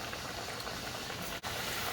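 Peppers fry in hot grease with a steady, loud, close sizzle and crackle that carries on without a break.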